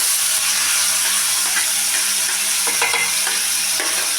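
Tomatoes frying in hot oil with browned garlic for vangyache bharit, a steady loud sizzle throughout with occasional stirring clicks and scrapes of the spoon in the pan.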